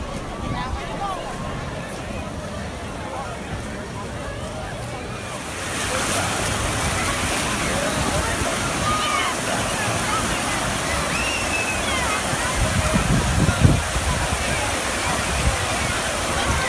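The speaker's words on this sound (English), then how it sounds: "This massive wave pool is actually one of the newest additions to the water park." Crowded wave pool at the Carowinds water park, a broad, continuous roar of churning water and surf that swells louder partway through, with distant crowd voices and splashing mixed underneath.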